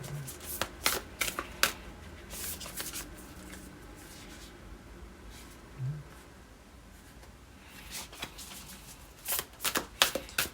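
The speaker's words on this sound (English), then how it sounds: "Let's shuffle a little bit more then." A deck of oracle cards is shuffled in repeated quick riffling bursts, close and crisp, with brief pauses between rounds and no voice.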